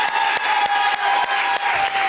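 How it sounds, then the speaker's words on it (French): Studio audience at a French TV talent show applauds a contestant named Steph, steady dense clapping close and loud throughout, with a few sharper bursts and no talk over it. "C'était Steph, on applaudit très très fort."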